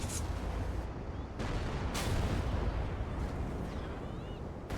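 Heavy tank cannon blasts in World of Tanks boom through a dense, constant roar of gunfire and explosions, one sharp shot after another with no pause.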